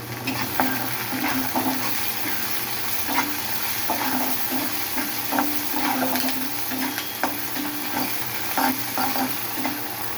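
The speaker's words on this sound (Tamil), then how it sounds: "தக்காளி போடலாம். இதில் ஒரு கொத்து கருவேப்பிலை போட்டுக்கலாம்." Chopped tomato and a sprig of curry leaves sauté in a pan for a prawn fry, giving a constant sizzle with frequent light scrapes and taps of stirring. Close and even, with no voices.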